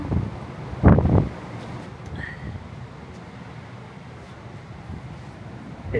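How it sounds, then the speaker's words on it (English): Wind gusts across a ship's deck off Puerto Madryn in Patagonia, buffeting the microphone with a strong blast early on, then settling into a steady, low rushing blow. "A bit windy."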